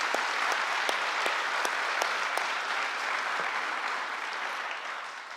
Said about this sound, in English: So round of applause for Sydney Engbrecht.